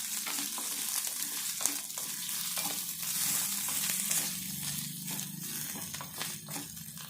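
Curry leaves dropped into hot oil while cooking an egg curry, giving a dense, steady crackling sizzle with stirring scrapes, close and continuous with no talk.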